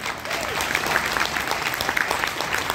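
Loud, sustained applause from a large audience at a company event, dense clapping filling the room throughout.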